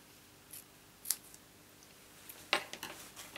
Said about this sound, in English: let's cut that bit and this side